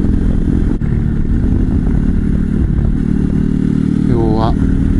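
A Honda Cross Cub 110 motorcycle rides steadily in a group, its engine drone and road rumble loud and constant throughout, with someone talking over the noise.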